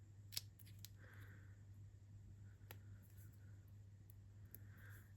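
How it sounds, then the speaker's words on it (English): Scissors snip through a paper banner for a Christmas treat box. A handful of short, crisp, quiet cuts come at irregular intervals close by, with no talking. "Cut in, cut to that cut line."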